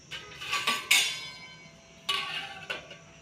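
Metal lids set down over dishes of cooked rice, potato curry and chapatis, giving a few close, sharp clinks and clatters in quick succession, then a pause and two more knocks.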